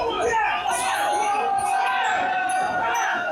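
A crowd at a live wrestling event screams and cheers in a loud, dense roar with high shrieking voices throughout, while a voice speaks over it.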